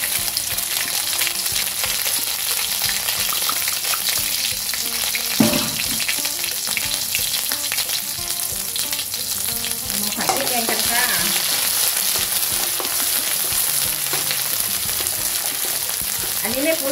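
Ready-made red curry paste sizzles and fries in hot oil in a home kitchen, a loud steady crackle throughout with occasional stirring scrapes and no talking.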